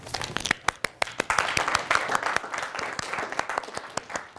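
An audience at a talk claps, giving a light, scattered round of applause with distinct individual hand claps close by.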